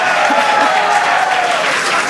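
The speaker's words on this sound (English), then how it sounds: "the crowd here in Hawthorne continuing to react to all these amazing views that we're getting" A crowd in Hawthorne applauds and cheers steadily throughout while watching a SpaceX Starship flight test, a dense, continuous wash of clapping.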